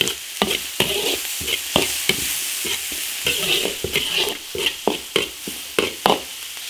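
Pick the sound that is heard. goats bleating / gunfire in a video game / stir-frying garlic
stir-frying garlic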